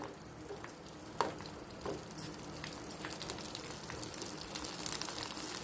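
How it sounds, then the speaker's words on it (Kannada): Poha vade sandige, spicy flattened-rice fritters, fry in hot oil, making a continuous soft sizzle and fine crackle that swells slightly, with a few louder pops near the start. "ಕಾದಿದೆ ಎಣ್ಣೆ ಚೆನ್ನಾಗಿ ಈಗ ಹಾಕ್ತೀನಿ ನೋಡಿ"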